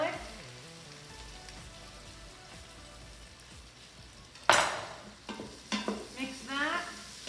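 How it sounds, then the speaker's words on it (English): Garlic sizzles quietly in an Instant Pot for several seconds, then a big spoon clatters and scrapes against the pot as it is stirred in a few sharp bursts. "Throw in the garlic."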